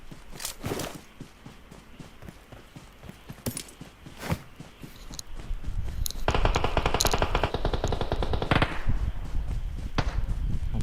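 Gunfire in the PUBG Mobile video game: sharp single shots ring out irregularly, then a dense burst of rapid automatic fire rattles for a couple of seconds, followed by more scattered shots.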